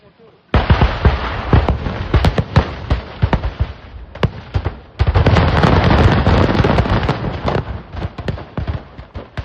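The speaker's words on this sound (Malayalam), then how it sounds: "രക്ഷാപ്രവർത്തനത്തിനിടെ വീണ്ടും സ്ഫോടനമുണ്ടായി" Repeated loud blasts and crackling bursts from an explosion at a fireworks manufacturing unit making pyrotechnics for a temple festival, with dense overlapping bangs that keep erupting through most of the clip.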